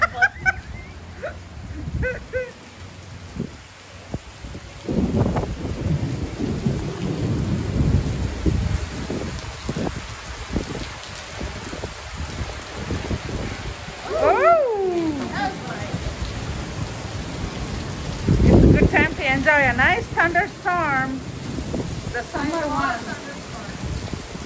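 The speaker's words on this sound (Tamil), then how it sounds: "அந்த தண்டர் ஸ்டார்ம் முடிஞ்சு அது ஒரு ஹாஃப் அவர் தான் அப்படி இருந்தது" A real thunderstorm with heavy rain, steady downpour hissing throughout while deep thunder rumbles roll in several times, loud and close, with birds calling briefly and a voice speaking at times.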